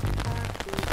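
A steady rain sound effect in an educational kids' cartoon, a dense continuous patter of drops filling the short moment, loud and even with a faint tonal hum beneath.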